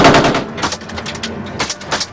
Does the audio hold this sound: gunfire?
yes